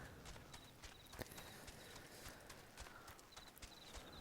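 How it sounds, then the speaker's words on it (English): Chocobo running footsteps from a Final Fantasy game, a steady rapid clip-clop of hoof-like steps with faint chirps over a constant low game background, fairly quiet throughout. "I like to ride my chocobo."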